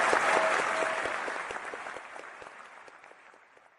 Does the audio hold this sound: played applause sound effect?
yes